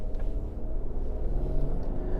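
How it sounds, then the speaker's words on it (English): A 2024 Lexus GX 550 Premium+ SUV accelerating hard, heard from the cabin as a steady, moderately loud engine drone with a low, even hum that holds throughout. "this SUV just effortlessly surges off"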